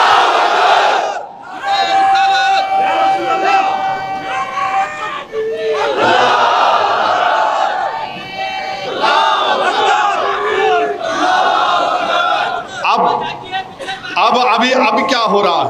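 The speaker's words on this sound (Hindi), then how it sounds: "अब लगाओ नारा, नारे तकबीर" A large crowd at a political rally loudly chants the religious slogan Nara-e-Takbir, a roaring wave of massed voices that repeats in surging bursts for the whole stretch, with a leading voice calling out between them.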